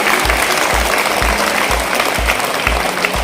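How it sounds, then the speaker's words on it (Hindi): A school prize-giving crowd in Katihar claps for a student who placed in two competitions, loud, dense applause continuing evenly from start to finish, with a faint low rhythmic thump beneath it. "जोरदार ताली बजाइए आराधना के लिए।"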